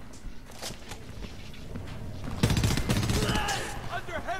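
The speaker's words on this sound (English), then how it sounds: "Under heavy fire!" Heavy gunfire in the video game Homefront, scattered shots that build into a louder, denser burst of rapid fire halfway through, close and chaotic.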